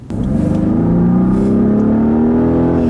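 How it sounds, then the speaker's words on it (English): A 2014 Rolls-Royce Wraith under hard acceleration after a downshift, its engine note rising steadily in a smooth, loud, continuous drone heard from inside the car, with no talking over it. "Once you really put your foot into it and it downshifts."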